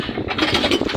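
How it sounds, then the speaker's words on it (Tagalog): A fishing boat engine at sea, running with a steady mid-pitched drone and a faint rhythmic chugging. "Lumalaban yung makina."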